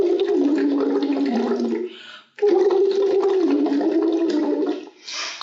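Someone blows bubbles through a straw into water during Lax Vox voice therapy, a loud close bubbling gurgle with a hummed tone through it, broken by a short pause and then resuming.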